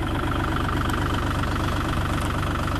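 A Bobcat E32 mini excavator on rubber tracks, with a 32-horsepower engine, runs steadily at close range, giving off a constant low, even rumble and a fine rhythmic pulse with no talking.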